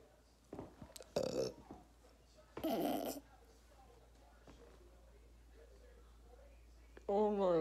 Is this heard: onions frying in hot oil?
no